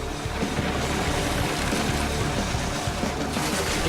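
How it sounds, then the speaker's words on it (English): A rock saw powered by a turbocharged diesel engine chews through a solid oak-framed sofa, giving a dense, loud, continuous roar of grinding and engine noise throughout. "the rock saw tackles a solid oak-framed sofa"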